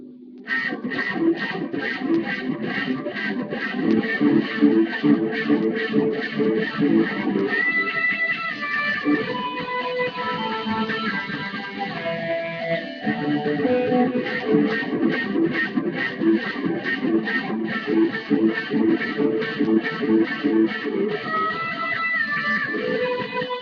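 An electric lead guitar plays octave lines with delay and wah for a church song, You Sent Your Own. Sustained, sliding notes ring out alone over a steady rhythmic pulse, with echoing repeats trailing each phrase.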